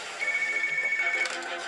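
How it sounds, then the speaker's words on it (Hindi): A telephone ringtone sounds while calling an office, a steady electronic trill lasting about a second, loud and close, with faint voices in the background. "सोफिया, तुम ALX ऑफिस को फोन करो, जरा उनसे इंक्वायरी करना।"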